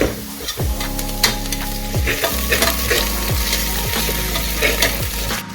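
Ginger garlic paste frying loudly in very hot oil for an egg biryani, a strong continuous sizzle with stirring scrapes and clanks of a utensil against the pan, close up.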